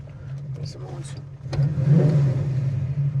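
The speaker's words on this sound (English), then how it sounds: "The idle's sitting about 700 RPM right now." A 1965 Ford Mustang Fastback restomod engine idles with a steady low hum at about 700 RPM, growing fuller and louder halfway through, while someone talks over it at first.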